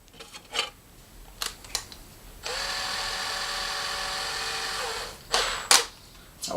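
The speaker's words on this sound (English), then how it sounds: "Let's get the drill out again." Power drill driving screws into a cable rack: a few short clicks and bursts, then one long steady whine of the motor for about three seconds, followed by brief sharp revs and clatter, close and alone.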